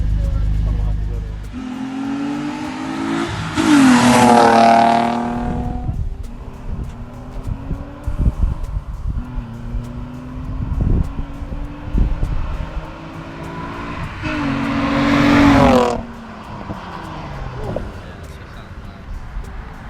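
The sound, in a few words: Infiniti G35 with Invidia exhaust revving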